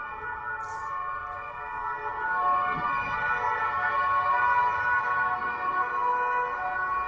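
A fire siren wails from outside a window, a steady sustained tone filling the room, continuous and moderately loud with no speech over it.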